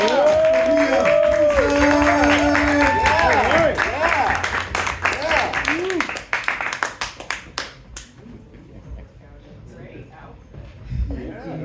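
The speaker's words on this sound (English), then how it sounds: "start clapping, keep clapping" A comedy club audience in Harlem claps steadily with scattered cheers and whoops, loud and close, then the applause thins into a few last claps before quiet.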